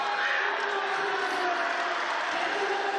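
Loud, sustained crowd noise filling a packed basketball gym at a Canterbury Rams home game, a constant dense roar of many voices with no pauses.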